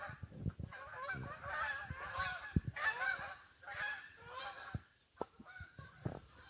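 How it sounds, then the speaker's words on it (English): A flock of geese honking as they circle overhead, a loud, ragged chorus of overlapping honks in bursts, fading briefly before a few scattered calls return. "I think the geese are. They're circling us or something."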